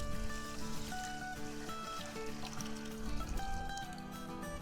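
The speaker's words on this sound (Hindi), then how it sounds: "अब इसमें शामिल कर देंगे 1 किलो पानी" Water pours steadily into sugar in a wok to make syrup for an almond sharbat, giving a continuous splashing trickle close by. A faint musical bed plays beneath it.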